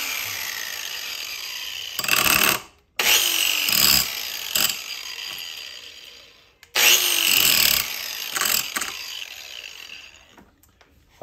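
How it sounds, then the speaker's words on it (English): Chainsaw chain being sharpened on a farm, with harsh bursts of grinding in two main runs separated by pauses and a few short passes, fairly close and with no talk. "that's how we sharpen our chain here on the farm"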